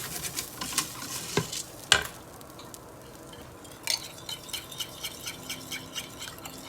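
Guyanese vegetable fried rice with dried thyme being stirred in a hot pan: steady soft sizzling broken by scraping and tapping strokes from the utensil, close and fairly quiet, with no voices.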